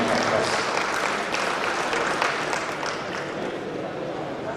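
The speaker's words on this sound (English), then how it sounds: "let's give Hansi and the team a round of applause." Sustained applause from an evening birthday gala audience, dense and steady throughout and fading slightly toward the end, with faint talk mixed in.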